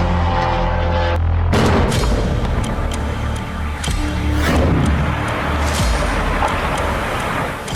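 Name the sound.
loud explosion in Rostov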